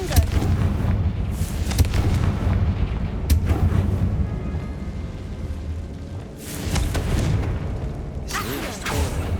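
Confringo fire spell from Hogwarts Legacy on PS5 exploding in a series of loud booming blasts and crackling bursts, with mechanical clatter between impacts over several seconds.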